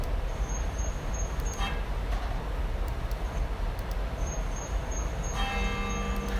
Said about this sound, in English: There's my bell.